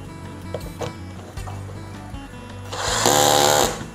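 A 20V cordless impact drill on torque setting 11 drives screws into wood without pre-drilling, giving a short whirring burst near the end after some clicking and handling sounds; loud and close.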